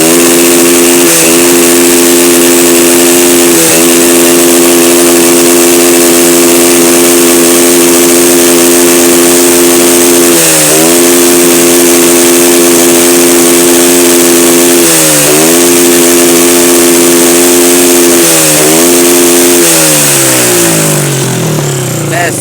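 A Japanese car engine held at the rev limiter for a long stretch, a loud steady high-pitched drone broken by brief periodic dips as the cut-off kicks in, ending with the revs dropping away.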